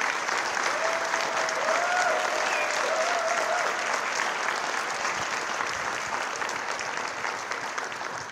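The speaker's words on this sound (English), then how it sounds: "So please give a round of applause" An audience at a city State of the City and employee recognition ceremony applauds for a man who recovered from cardiac arrest, with sustained, even clapping and a brief faint voice early on.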